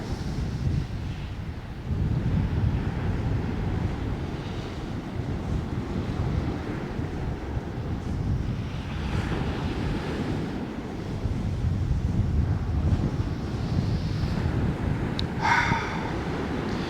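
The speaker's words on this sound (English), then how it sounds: "It would be nice if we didn't have this wind." Strong wind buffets the microphone at the seaside on the beach at Sutton on Sea, a steady roar with waves and surf rolling underneath, continuous and loud throughout with gusts rising and falling.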